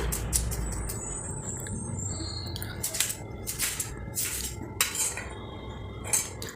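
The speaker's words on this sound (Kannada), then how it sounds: "ಸಿಪ್ಪೆಯನ್ನು ತೆಗೆದ ನಂತರ ಸಣ್ಣದಾಗಿ ಪಚಡಿ ರೀತಿಯಲ್ಲಿ ಹಚ್ಕೊಳ್ಳಿ ಸೌತೆಕಾಯನ್ನು" A knife chops peeled cucumber finely on a board for a cucumber salad, giving quick, close, crisp taps and clicks with a steady background hiss and no talk.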